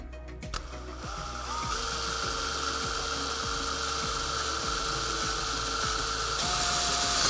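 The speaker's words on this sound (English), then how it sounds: "Okay, now we'll drill out the hole." A power drill bores a hole for mounting aluminum side skirts on a 2015-2020 Mustang GT350, the motor whirring steadily with a repeating ratcheting click and the pitch climbing near the end, close and alone.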